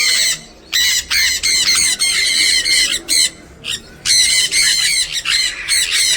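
Birds in a pet park aviary squawk loudly and harshly, close up, in rapid repeated bursts that fill almost the whole clip with only brief gaps.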